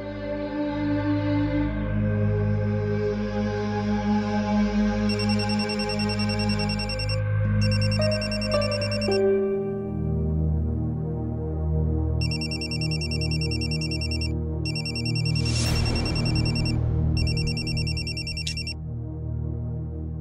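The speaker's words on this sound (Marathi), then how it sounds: "मी कधीपासून तुला फोन करतोय, तू फोन का उचलत नाहीयेस?" A mobile phone ringtone keeps ringing unanswered in a TV drama scene, its bright repeating chimes sounding in bursts over a steady, loud background music score, with no one speaking.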